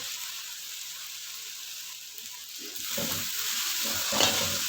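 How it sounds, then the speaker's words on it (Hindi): Onions and carrots sizzle in a hot pan while being stirred, a steady frying hiss that grows louder midway with scraping stir strokes and a brief clink near the end. "गाजरों को भी हमने बहुत ज़्यादा नहीं पकाना, जस्ट 1 से 2 मिनट बस हमने इनको फ्राई करना है।"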